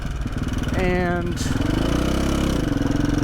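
A KTM 450 dirt bike engine with worn rockers idles close by in a rapid, steady chugging pulse, while someone speaks briefly over it partway through.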